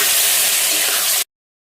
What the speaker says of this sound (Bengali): আমি অল্প অল্প করে পানি দিয়ে নাড়াচাড়া করব।